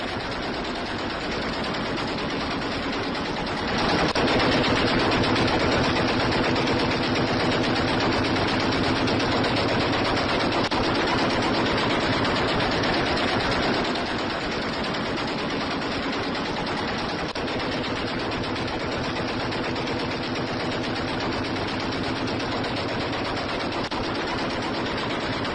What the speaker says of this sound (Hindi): अफगानिस्तान की ताबड़तोड़ फायरिंग हुई